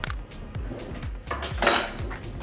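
A flimsy spoon scrapes and clinks against a bowl while mixing food in a motel kitchen, giving a steady rhythm of close, light metallic strokes with a brighter rattle near the end.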